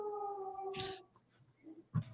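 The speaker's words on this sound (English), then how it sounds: "Whose dog is that?" A dog howls in the background, a drawn-out tonal wail with a few harmonics that fades after about a second, followed by faint whimpering and a brief louder yelp at the end.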